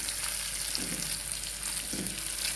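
Semolina and vegetable balls stirred gently in a pan of hot oil, a steady close sizzle with two soft scraping pushes of the spoon, no talking.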